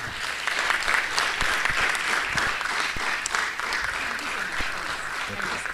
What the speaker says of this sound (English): Can I request a big round of applause to IndusInd Bank?